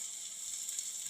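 Ground spices such as turmeric, chili, coriander and garam masala sauté for an egg and pappadam curry, giving off a steady, bright sizzle that runs close and even throughout, with no voices.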